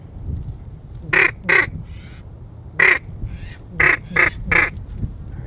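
Ducks calling during a duck hunt as birds fly in over decoys: several loud, harsh quacking bursts in a broken sequence, with softer calls between, over a low rumbling outdoor background.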